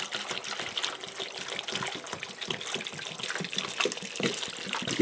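Water pours steadily into a container while about four liters are measured out for a strawberry mead, a continuous close splashing and trickling throughout with no talking.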